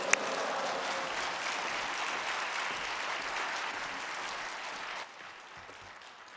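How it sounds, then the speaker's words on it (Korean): A church congregation at a Friday worship service applauds to welcome a guest speaker, sustained dense clapping at moderate loudness that fades down sharply near the end. "하나님께 할렐루야로 영광 돌리면서 박수로 환영하겠습니다"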